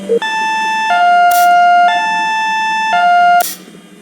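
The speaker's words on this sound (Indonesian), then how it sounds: "CPL 349 menggunakan sirine himbauan" A loud electronic warning siren at a railway level crossing alternates between two pitches in long steady blasts, repeating twice, close and clear.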